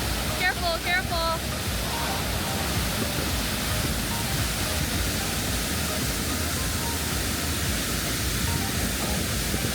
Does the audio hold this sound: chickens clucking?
no